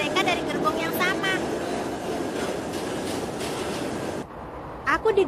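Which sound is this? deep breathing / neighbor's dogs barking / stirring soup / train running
train running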